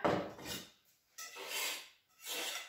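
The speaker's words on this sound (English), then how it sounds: "So just grate it here on the finer part of the grater." A block of chocolate rasped against the fine side of a kitchen grater in three slow strokes, a soft close scratching rub with brief pauses between passes.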